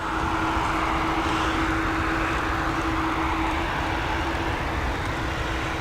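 A Boeing 787 Dreamliner waiting before takeoff at Dublin Airport, a loud steady jet engine roar with a constant drone, continuous and close, with no talking.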